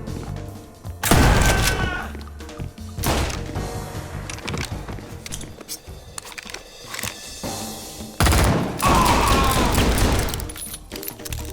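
Shotgun blasts boom through the XIII video game in loud, sharp cracks, two especially heavy shots standing out among scattered impacts and clatter from a firefight, with no voices.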